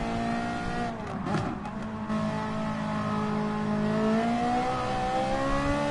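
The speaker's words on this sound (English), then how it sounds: "The engine sound is really good right now in Gran Turismo Sport. I mean, you can hear the gear shift." Race car in Gran Turismo Sport on the Nürburgring during an endurance race, engine whining up through the revs with a quick gear shift and a dip in pitch, then climbing again, loud and continuous.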